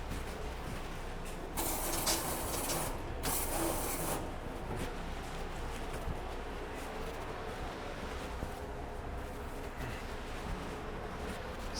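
Two quick bursts of hissing mist from a spray bottle coat baking trays to help the dough stick, followed by quiet rustling handling noises in a kitchen.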